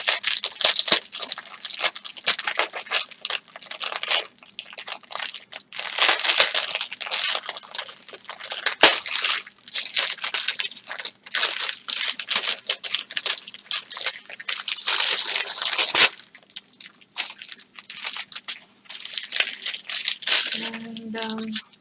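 Cellophane wrapping crinkles and crackles loudly through an unboxing, in dense irregular bursts with brief pauses and a quieter stretch near the end.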